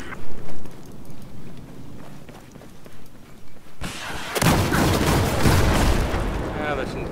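Gunfire in the Battlefield 4 conquest match on the Zavod 311 map, a couple of loud shots at the start, scattered distant cracks, then a dense, loud burst of firing and explosions that fills the last few seconds.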